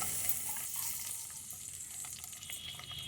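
Something fries gently in ghee in a wok, a quiet, even crackling sizzle with light stirring scrapes and no voices.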